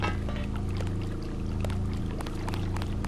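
Water pouring and churning in the Deus Ex game, a steady loud rushing flow with a low droning hum underneath and scattered sharp splashy ticks, no voices.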